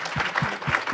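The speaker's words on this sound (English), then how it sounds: "I wanted to give a hand clap to them for the amazing job that they're doing" Conference audience at a JavaScript meetup clapping for the event organizers, a brief burst of applause with a few louder individual claps standing out from the crowd.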